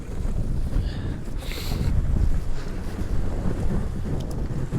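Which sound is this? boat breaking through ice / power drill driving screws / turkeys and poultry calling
boat breaking through ice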